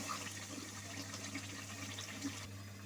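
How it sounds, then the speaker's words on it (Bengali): Water pours steadily into a pot of browned chicken curry, a soft continuous splash and trickle heard faintly throughout the short moment. "এখন জলের জন্য পানি দিয়ে দিব।"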